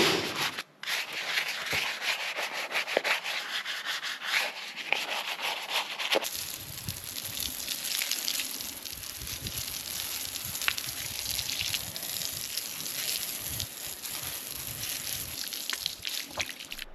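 Scrubbing and foam-washing a walnut tabletop: steady wet rubbing and sloshing, close and continuous, with a brief quieter stretch at the start.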